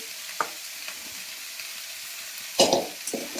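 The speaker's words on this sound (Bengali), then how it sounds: "আলুটা আমি দিয়ে দেবো।" Boiled potatoes dropped into a pan of red, well-fried spice paste, giving a low steady sizzle with a few brief clatters and a louder burst of frying near the end.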